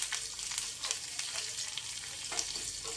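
Asafoetida tempering sizzles steadily in a pan over a low flame, a close, continuous crackling hiss with small spits and pops throughout.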